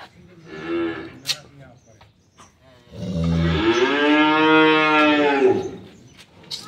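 Cattle on a Bangladeshi dairy farm lowing: a short call early on, then a long, loud, drawn-out moo in the middle lasting a few seconds, heard alone without talk.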